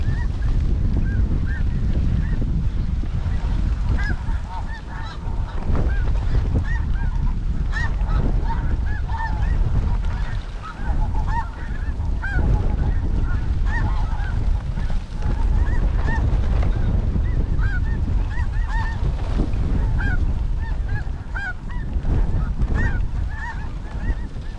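A large flock of snow geese honks loudly and continuously, the calls close and overlapping, on a goose hunt in high winds, with wind noise running underneath throughout.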